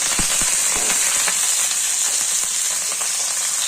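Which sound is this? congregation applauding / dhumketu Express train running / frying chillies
frying chillies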